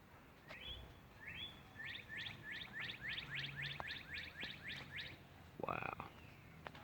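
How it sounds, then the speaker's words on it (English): Birds calling outdoors in Pennsylvania, a rapid run of a dozen repeated chirped notes at moderate level, then a brief burst of louder harsher calling near the end, over steady background noise. "And the dove."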